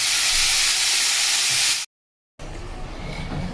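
Jackfruit and potato pieces sizzle loudly in a hot iron wok, a dense, steady hiss that cuts out briefly before resuming slightly quieter.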